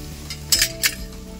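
Onions fry in a pan with a soft sizzle underneath, while a metal spoon scrapes and clinks sharply against the pan twice as they are stirred.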